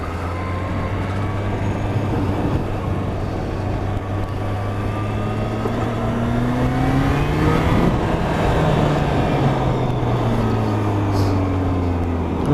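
A Kawasaki H2 SX SE motorcycle accelerates on the road, its engine note climbing and dropping through gear changes, loud and close over steady wind rush, with no talking.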